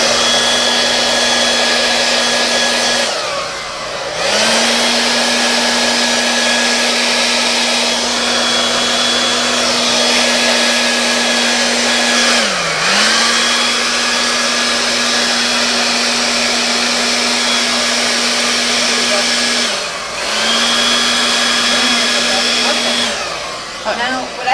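A hair dryer blows loudly and steadily to push acrylic paint over the sides of a canvas, its whine dipping and rising as it is briefly switched off or moved three times.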